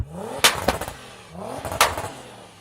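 Two sharp throttle blips from a 3,000hp SUV with an aftermarket exhaust, each rising quickly and then falling back, loud and close, with some clattering between the revs.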